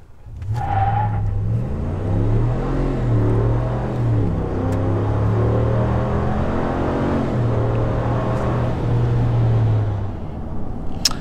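A 2020 RAM 1500 pickup with the 5.7 engine accelerates hard from 0 to 60. Its engine roars steadily and climbs in pitch through several gear changes, loud and continuous, with no talking.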